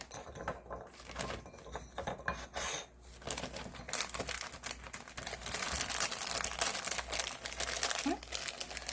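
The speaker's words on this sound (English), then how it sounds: "just put it in the zipper bag." Plastic zipper bag crinkling and rustling as minced garlic is packed into it in a home kitchen, a close, continuous crackle that grows busier and louder toward the end.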